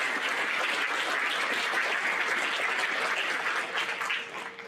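A crowd applauds veterans at a high school Veterans Day ceremony, a steady, dense clapping that holds for several seconds and then starts to fade.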